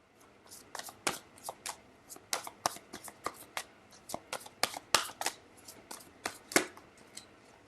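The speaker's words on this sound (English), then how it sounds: "So I shuffle my cards a lot off camera already" Tarot cards are shuffled again and again close by, with crisp riffling bursts and light taps in a quick, uneven rhythm.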